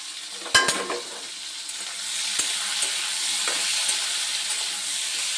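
Raw banana and potato pieces frying in a pan, opening with a couple of sharp utensil knocks, then a steady hissing sizzle that holds close and even to the end, with no voices.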